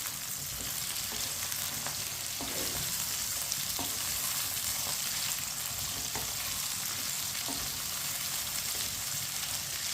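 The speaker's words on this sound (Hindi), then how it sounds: "भिंडियों को मैंने मिक्स कर लिया है।" Okra sizzles and crackles steadily in hot oil in a pan while it is stirred and mixed, with occasional clinks of the spoon against the pan, close and continuous with no talking.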